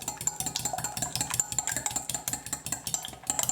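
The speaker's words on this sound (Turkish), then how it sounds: "Bir çatal yardımıyla hafifçe çırpacağım." Fork lightly whisking eggs in a bowl for an omelette, a quick, steady run of light clicking taps against the bowl, close and moderately quiet, with no talking.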